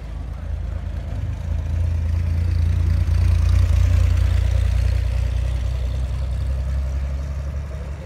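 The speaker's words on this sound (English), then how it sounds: "He got a Corvair engine in that." A Chevrolet Corvair engine runs steadily at a car show, a loud continuous low rumble that swells slightly midway and holds without pauses.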